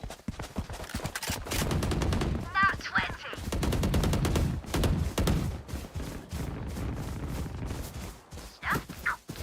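Shotgun fire in the Valorant tactical shooter: several loud, sharp blasts in irregular bursts over about nine seconds, set among busy game sounds and scattered voice-like bits.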